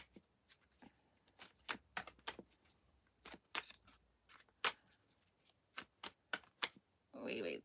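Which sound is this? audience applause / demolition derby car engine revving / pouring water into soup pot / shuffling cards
shuffling cards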